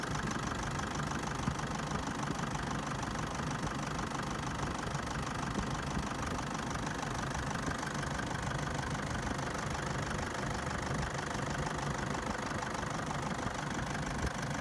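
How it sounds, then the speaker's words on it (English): A diesel common-rail car engine idles roughly and continuously, with a heavy, uneven knocking rumble and shaking vibration throughout, close and steady with no voices. "Let's see how bad the shaking for this engine."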